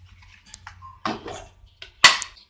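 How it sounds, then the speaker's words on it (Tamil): Flour-coated chicken pieces for KFC-style popcorn chicken are shaken inside a lidded container, giving two close, short bursts of rattling and thumping with quiet gaps between them. "இப்போ திருப்பியும் அதே மாதிரி மூடி திருப்பியும் இந்த மாதிரி குலுக்கிக்கோங்க."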